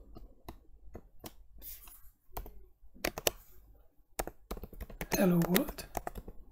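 Computer keyboard keys click in scattered short bursts while someone talks over them, with brief pauses between runs of typing.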